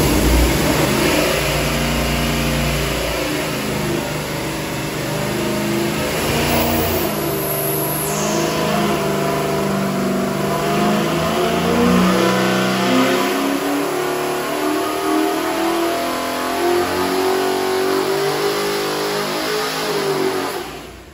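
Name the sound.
406 small block Chevy engine revving on dyno pull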